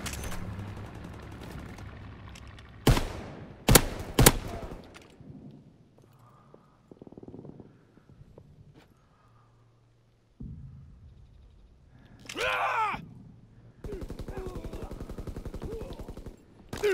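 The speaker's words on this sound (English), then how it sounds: "Enemy flak above." Anti-aircraft flak fire in a WWII video game, heard as loud sharp bursts of rapid gunfire separated by quieter gaps, with a long stretch of sustained firing near the end.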